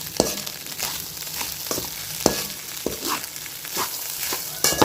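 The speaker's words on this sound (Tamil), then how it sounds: "இப்போ இந்த சாதத்தை சேர்த்து மிக்ஸ் பண்ணிக்கலாம்." Cooked rice for mint and carrot lunch-box rice is stirred into a sizzling pan, with a continuous frying hiss under repeated scraping taps of a spoon against the pan, close and fairly loud.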